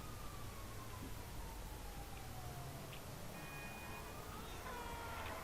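Police car siren in GTA 5, a faint, distant wail that slides slowly downward over a steady wash of background game noise, with a few higher tones near the end.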